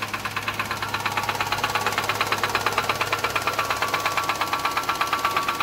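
A Nissan Sunny engine due for overhaul idles close by with a loud, steady, rapid metallic knock over a constant mechanical drone; no voices.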